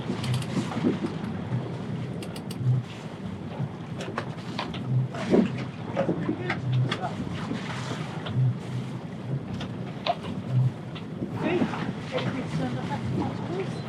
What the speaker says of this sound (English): As you can probably hear, we've got the engine on again.